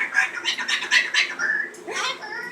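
A pet bird squawks and chatters in a rapid, harsh series close by, with a voice faintly mixed in.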